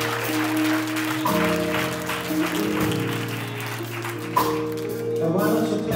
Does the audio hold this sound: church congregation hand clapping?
yes